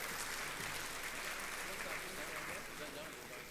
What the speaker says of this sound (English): So a round of applause to all of the partners and sponsors of this conference,